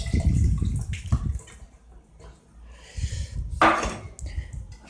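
Water poured into a pot of catfish stew: a few short, close splashing bursts, the loudest near the end, with quiet gaps between.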